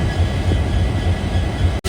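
The Karwar Express, a diesel passenger train, rumbles along the track from inside a carriage, a loud continuous low roar with rhythmic wheel clatter and a brief dropout at the end.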